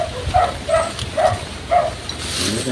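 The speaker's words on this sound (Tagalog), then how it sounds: "Tumatahol na yung mga aso na kayo." Dogs barking at a cemetery: four short, evenly spaced barks at a steady pace, fairly close and clear over a quiet outdoor background.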